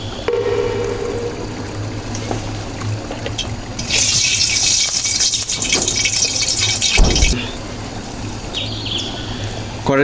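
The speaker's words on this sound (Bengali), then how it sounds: "তেলটা একদম গরম করে নিলাম মাছগুলো ভেজে নিচ্ছি দেখো" Bata fish frying in hot oil in a pan, a steady hissing sizzle that swells louder midway and then settles back to a softer crackle.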